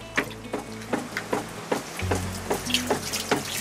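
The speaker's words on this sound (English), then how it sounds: "And now we're ready to start the pump." A primed water pump starting up, giving a regular, even beat of sharp pulses with a steady low drone beneath, close and fairly quiet.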